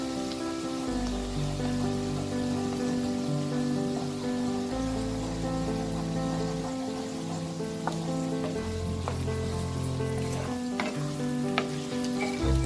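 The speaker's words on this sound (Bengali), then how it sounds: "কড়াইয়ের একটা সাইডে নিয়ে গ্যাসটা কমিয়ে আমি মাঝখানে একটু গ্রেটেড খোয়া ক্ষীর দিয়ে দেবো, দিয়ে ভালো করে মিশিয়ে নেব।" Grated khoya kheer being stirred into a sizzling raw jackfruit kofta curry in a kadai over low gas, a steady close sizzle with soft scraping stirs throughout, backed by a constant music-like hum.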